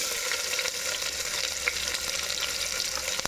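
Onions fry in a pan for a Bengali dish, browning with a steady, close, bright crackle and hiss throughout, with no voices over it.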